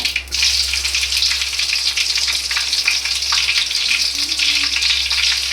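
Mustard seeds and green chillies fry in hot oil with a steady, loud sizzle that carries on without a break, with faint crackling and no talking.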